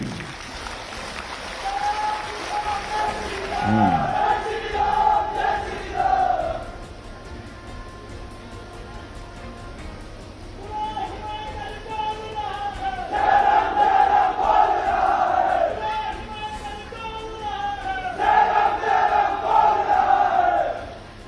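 A large crowd cheers and claps in waves at a public government ceremony marking 75 years of Himachal Pradesh at Sarkaghat, with loud bursts separated by quieter gaps and a voice over a loudspeaker.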